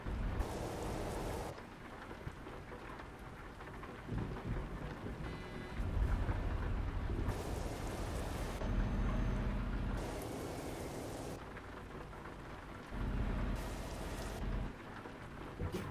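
Rain and thunder from the Cold Rain weather mod in TruckersMP, a truck driving game: steady pattering rain with several rolling thunder rumbles swelling and fading in bursts, no voices.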